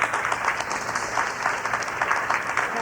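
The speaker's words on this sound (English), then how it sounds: "How about a nice round of applause for Rallie Holmes?" Steady applause from an audience, dense clapping that carries on evenly without a break.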